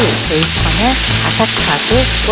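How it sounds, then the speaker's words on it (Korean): Loud, steady sizzling of sausages frying in hot oil, crackling continuously up close, with faint music-like tones underneath. "기름을 두르고 소세지를 익혀주세요."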